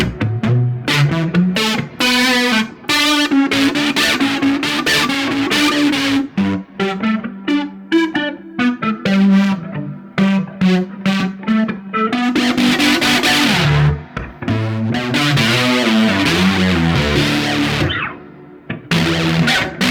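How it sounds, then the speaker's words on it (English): Electric guitar played through fuzz and reverb, a distorted, saturated melodic line with sustained notes and washy tails, loud and continuous with no voice. "If I have the fuzz on, then I got a lot of that reverb"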